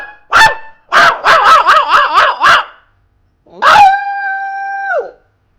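A dog lets out loud, close yips and a rapid run of barks, then after a brief pause a single long, sustained howl that falls away at the end, with no other sounds around it.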